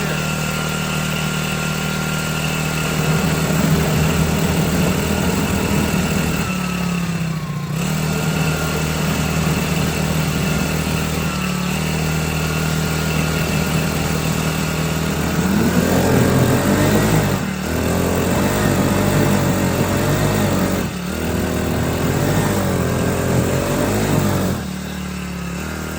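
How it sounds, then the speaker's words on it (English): A cheap Chinese-made 4-stroke outboard motor idles during break-in, a steady mid-pitched putter running close and loud throughout, with a few brief dips and wavering changes in tone. "So I'm gonna let it run on idle, and we're gonna break in the engine here"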